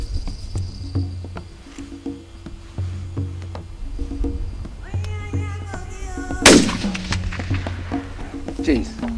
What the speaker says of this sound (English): Jeez, perfect shot.